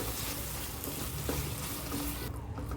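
Coconut chutney being mixed into hot oil in a pan gives a steady, close frying crackle with stirring scrapes throughout, and the sizzle drops off sharply in the high range near the end.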